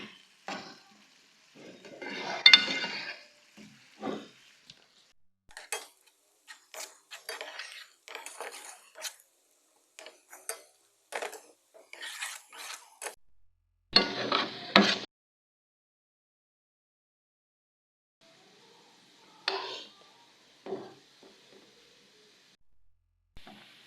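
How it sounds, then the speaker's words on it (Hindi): Onions browning in oil for haleem are stirred with a metal spoon, giving scattered clinks and scrapes in short bursts over a faint sizzle, with one longer loud stretch of frying midway and quiet gaps between. "अब हम हलीम के लिए प्याज ब्राउन कर लेंगे। प्याज को ब्राउन करेंगे।"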